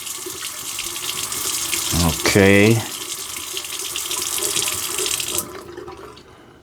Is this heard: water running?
yes